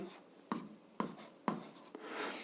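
Pen writing out a physics problem's given values by hand, heard as steady scratchy strokes with a few sharper taps as marks land, close and fairly quiet with no talking.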